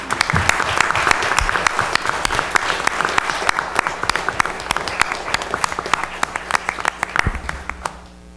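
Loud, close applause at a town council meeting as veterans among the town employees stand, sustained crisp clapping from a seated audience that continues throughout before tapering at the very end.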